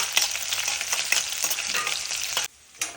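Chilli chapati is stirred in a hot pan, with rhythmic scraping over a loud, continuous frying sizzle. The sound drops off briefly near the end, and no one speaks.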